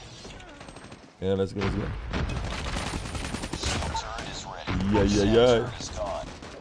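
Bursts of gunfire ring out in Call of Duty Mobile, loud shots and booms packed together, while players talk and shout excitedly over them.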